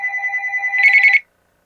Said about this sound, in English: getting a phone call here